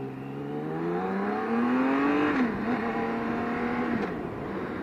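A BMW K1600 touring motorcycle's six-cylinder engine revs up and holds a steady rising drone, loud and close, with no talk over it.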